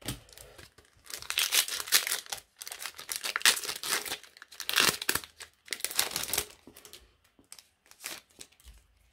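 Crinkly foil wrapper of a Pokémon card booster pack being torn and crumpled by hand, several short bursts of rustling and ripping separated by brief quiet gaps, close and fairly loud.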